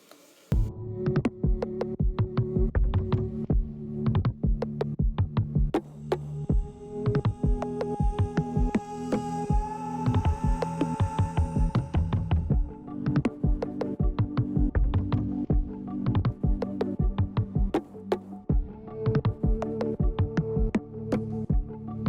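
A glass grinder shaping the corners of stained glass pieces for an Art Deco rainbow suncatcher, a continuous motor hum close up with dense rapid gritty ticks and scrapes as the glass is pressed against the bit throughout.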